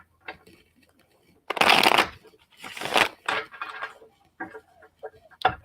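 Tarot cards riffled and shuffled by hand for a psychic reading, several short papery bursts of flicking close up, with a voice talking between them.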